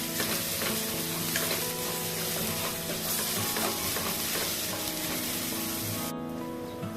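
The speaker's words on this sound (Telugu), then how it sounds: "ఇది మొత్తం ఇంకా మంచిగా ఫ్రై అవ్వాలి" Spice masala fries loudly in oil for a crab curry, a dense close sizzle with stirring clatter that carries on throughout, then cuts off sharply near the end.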